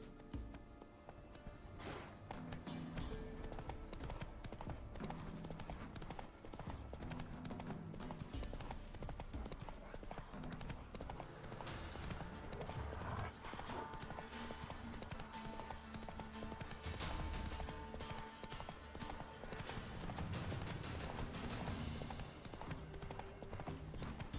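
Horse galloping in The Witcher 3 video game, with rapid, steady clip-clop hoofbeats continuing throughout amid a dense game soundscape, fairly quiet overall.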